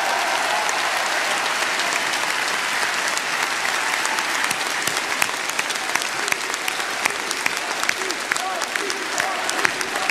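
A large crowd applauds Patrick Jardin at an evening political rally in Cannes, with dense, steady clapping that fills the hall for about ten seconds at a strong, even level.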